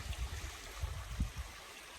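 Creek water flowing steadily along a trail near Lassen National Park, a soft continuous rushing wash with faint low gurgles, alone and without speech.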